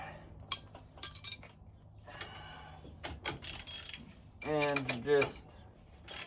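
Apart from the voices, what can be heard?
21 mm ratchet tightening a truck shock bolt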